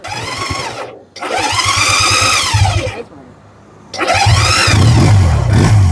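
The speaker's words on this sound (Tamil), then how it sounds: "ஸ்டார்ட் எப்படி சவுண்ட் இருக்குது, ஒரிஜினல் 200 சவுண்ட் வருதான்னு பார்ப்போம். ஓகே, நாங்கள் இப்போ ஸ்டார்ட் பண்ணி பார்ப்போம்." A Roadmaster CD 200 motorcycle engine cranks and fires loudly up close, running for a moment, cutting out, then starting again with a rising, revving roar.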